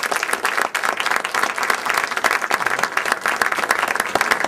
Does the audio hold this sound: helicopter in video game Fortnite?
no